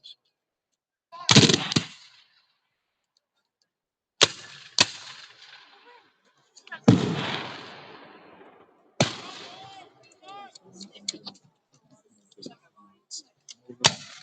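Artillery and musket fire ring out across an open field at a Civil War battle reenactment. Several loud, sharp blasts with long echoing decays are separated by pauses, followed by a scatter of smaller distant shots.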